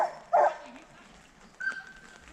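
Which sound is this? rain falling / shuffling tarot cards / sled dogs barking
sled dogs barking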